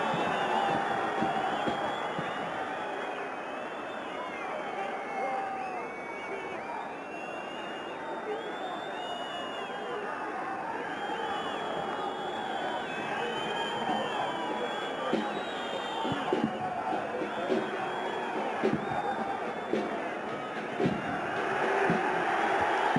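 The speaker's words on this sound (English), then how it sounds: "Even that gets a big cheer." A stadium crowd at an AFC Champions League football match between Pakhtakor and Al Hilal roars and cheers in a steady, distant wash, with a commentator talking over it.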